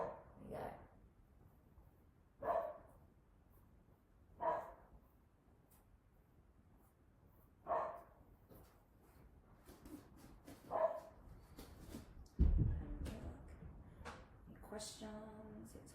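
A pet dog indoors barks in single sharp bursts spaced a few seconds apart, moderately near, with a louder cluster near the end and a person talking between the barks.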